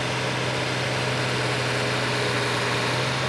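An antique pulling tractor grinds along at a tractor pull, its engine holding a loud, steady, unbroken drone with a low hum beneath, close by and without any voices.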